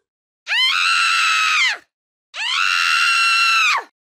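Two long, loud screams heard outside at night, each lasting over a second with a sharp rise and a sustained strained pitch, separated by a brief silence, with no talk.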